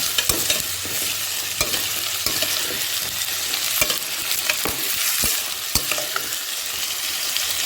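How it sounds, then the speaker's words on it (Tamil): Whole thorny brinjals sauté in hot oil, giving a steady loud sizzle with repeated sharp scrapes of a spoon stirring them around the pan. "நல்லா எண்ணெயில் வதக்கணும் நல்லா முள் கத்திரிக்காய் போட்டாச்சு"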